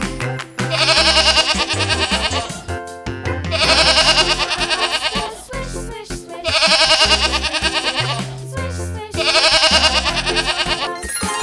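A goat bleats in four loud, wavering cries spaced a few seconds apart, each one rough and quivering, close to the listener with a low background drone between calls.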